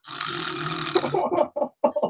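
A voice imitates snoring with one long rasping drawn-out snore, followed by a few short snorting and sputtering bursts.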